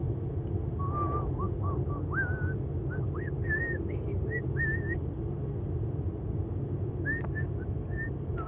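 A person whistles a tune inside a 2018 Tesla Model S 75D on the road, short rising notes and phrases sounding faint over the steady low rumble of the moving car.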